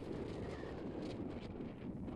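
Steady wind roar buffeting a microphone while pitching an MSR Elixir 1 tent, a dense low rumble with gusty rustling and no voices.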